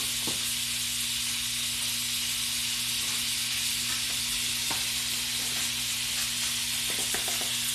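Butter melting in a pan before flour goes in for a from-scratch potato soup, giving a steady soft sizzle and hiss with faint stirring ticks, close and alone.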